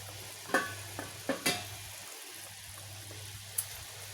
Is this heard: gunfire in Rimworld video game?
no